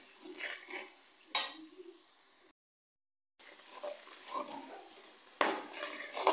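Spices being stirred into a keema biryani masala in a pan, soft scraping and clinking of a spoon against the pot in several short bursts, with a brief silent gap partway through.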